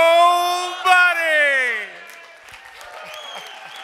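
Crowd at a Rotary meeting raising a loud rising whoop and cheer that swells into sustained voices, then trails off into scattered clapping and murmur.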